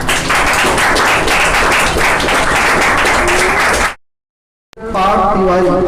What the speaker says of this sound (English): Give a big round of applause for Jyoti Singh.